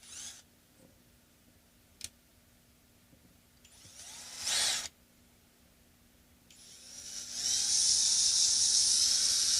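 A small drill with a slightly larger bit whines in short bursts while fabricating a guitar bridge saddle, a sharp tick and a brief high buzz, then a longer sustained high-pitched whir toward the end.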